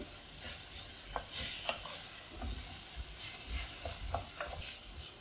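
Green mango pieces cooking with salt in a pan give off a soft, low sizzle broken by faint intermittent scraping and stirring clicks, quiet and close with no talk.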